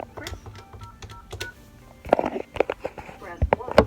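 Telephone keypad tones enter a voicemail PIN in a medical office, a short series of beeps in the first two seconds, followed by a louder voice speaking.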